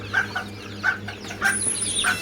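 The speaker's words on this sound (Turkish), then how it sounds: "Burada da Brahma civcivlerimiz var." High, thin peeping of young Brahma chicken chicks, several short chirps at irregular intervals, close by with soft background noise.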